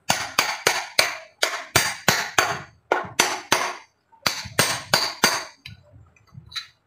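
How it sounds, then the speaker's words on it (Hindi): Sharp metallic hammer blows drive a new bearing into a water pump during a seal and bearing change, about twenty close, loud strikes in quick, uneven bursts with brief pauses, ending with a few lighter taps. "ये देख बैरिंग को अच्छी तरह ठोकना है।"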